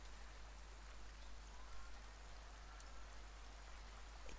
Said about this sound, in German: Gerade höre ich nur Wasser.